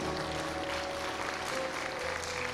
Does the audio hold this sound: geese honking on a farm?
no